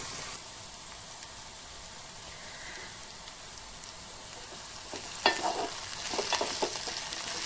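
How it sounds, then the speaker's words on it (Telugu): Okra, potato and beans frying in a pan, a soft steady sizzle that grows louder and busier toward the end with a few stirring clinks. "మంచిగా బెండకాయ ఆలుగడ్డ బీన్స్ మంచి ఫ్రై అయింది కదా"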